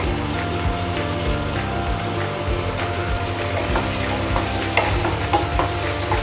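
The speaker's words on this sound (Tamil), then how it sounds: "எல்லா சைடும் இந்த மசாலா படுற மாதிரி மிக்ஸ் பண்ணி வச்சுக்கோங்க." Raw banana slices being mixed with masala, with steady stirring and soft scraping over a continuous crackling sizzle.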